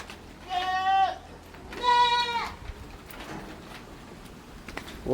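Two loud, wavering bleats from goats at an eco park in Candon City, Ilocos Sur, each about a second long with a short gap between, followed by quieter outdoor background noise and a faint third call.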